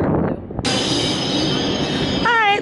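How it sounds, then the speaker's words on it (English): A train at a station in Venice, with broadband rumble from the rail cars and a brief high squeal of wheels or brakes near the end, loud and close; people talk faintly underneath. "Alright, time to get on a train!"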